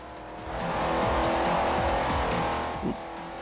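A muscle car in a racing video game sliding out of shape through a corner, with a loud, sustained engine roar and tire squeal that swell and hold, then ease off near the end, with no voices.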